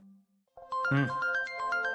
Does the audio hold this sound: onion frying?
no